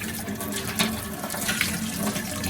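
Vegetables being washed under running water, a steady close rush of the stream splashing with faint clatter of the produce, with no voices.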